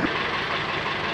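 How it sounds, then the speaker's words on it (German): A 225 hp tractor engine chugs steadily and roughly at close range, a dense low rumble with no pauses. "Jetzt geht's erstmal mit dem Traktor bis in die Bucht"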